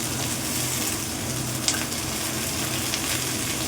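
Chopped tomato frying in a hot pan of oil, an even, dense sizzle running continuously with a couple of faint stirring clicks, close and moderately loud.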